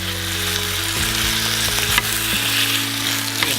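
Chicken breast browning in a pan for a creamy pesto parmesan dish, loud, steady sizzling and frying close up, with a few soft scrapes and shifts partway through.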